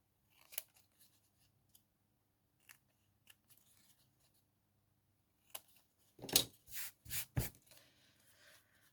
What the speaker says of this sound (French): Je coupe un petit peu en biseau sur le côté